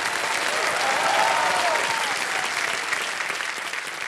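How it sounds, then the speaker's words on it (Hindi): A studio audience on Kaun Banega Crorepati gives loud, sustained applause, a dense continuous roar of clapping close by that holds strongly throughout, with a faint tonal sound in the background. "एक बार फिर जोरदार तालियां बज जाएं के लिए"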